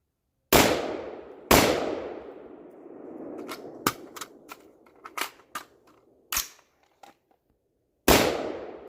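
A home-defense gun fires at an outdoor range target: several loud, sharp gunshots with ringing decays, spaced irregularly, mixed with quieter metallic clicks and clanks of handling between shots, and no talking.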